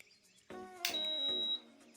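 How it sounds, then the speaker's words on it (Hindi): A Havells Instacook STX induction cooker beeps from its buzzer as it switches on, giving a short tonal beep and then a longer sustained one at close range, with a faint hum under it. "बजर का साउंड बजा, साथ साथ फैन भी घुमा।"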